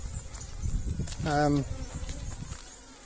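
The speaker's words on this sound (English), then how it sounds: "it's got bees in there, it's being robbed" Honey bees buzz steadily around a beehive that is being robbed, a soft continuous drone with one louder, closer buzz passing briefly in the middle.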